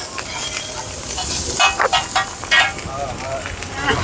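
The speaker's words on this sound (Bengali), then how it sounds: "এর মধ্যে টল দিয়ে মশলা টশলা দিয়ে হয়ে যাচ্ছে ফ্রাইড রাইস" Fried rice with raw onion and spices sizzles and hisses steadily in a pan at a fifty-year-old Kolkata street stall, with scraping stir strokes and a busy background under the frying.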